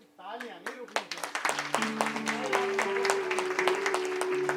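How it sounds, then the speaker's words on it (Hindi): Sustained applause from an audience at a city award ceremony in Meerut, steady and fairly loud throughout, with a sustained musical tone running underneath. "तालियां नहीं रुकनी चाहिए"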